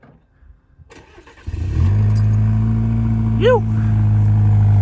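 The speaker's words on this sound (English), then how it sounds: "One of the best things about this truck, the MagnaFlow Overland Series exhaust." Chevy Colorado truck, a 2023 overland build with a MagnaFlow Overland Series exhaust, starts up after a brief word and settles into a deep, steady idle rumble that stays loud and close, with a short whistle-like squeak partway through.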